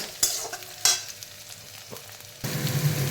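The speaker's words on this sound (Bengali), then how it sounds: "এই যে আমার এখানে টমেটো পেঁয়াজ ভাজা ভাজা হচ্ছে" Tomato and onion fry in a pan: two sharp spatula scrapes over a soft sizzle, then the frying swells louder and hisses steadily near the end.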